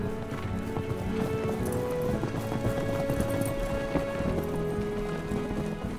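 Hooves of Maremmano horses, the working horses of the Maremma cowboys, clip-clop steadily throughout, mixed with a busy outdoor rumble and scattered tapping.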